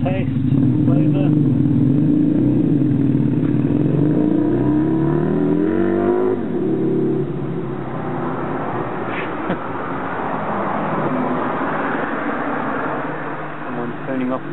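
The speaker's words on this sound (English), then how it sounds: "Someone's turning off on their bike there." A motorbike passes nearby and turns off, its engine rising then fading out as it pulls away, with a voice speaking over the pass.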